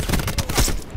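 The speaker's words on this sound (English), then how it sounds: "sniper firing" Sniper rifle fire from an ICR-7 in Black Ops 4, a dense burst of sharp, loud cracking reports packed into a second, close and unaccompanied.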